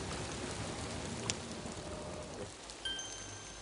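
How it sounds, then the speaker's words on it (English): Steady rain falls and patters outdoors, a soft continuous hiss at moderate level with a few sharper drips, no voices. "Still raining. You're going to get soaked."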